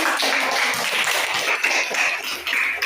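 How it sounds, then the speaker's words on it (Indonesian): A group claps steadily for about three seconds, a dense, even patter of many hands with no voices rising above it. "Oke, tepuk tangan"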